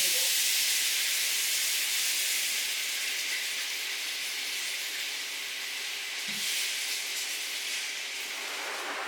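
Water poured into a hot pan of fried loitta dried fish sets off a steady, loud hissing sizzle, broadband and continuous for several seconds, with a brief low bump partway through and no talking.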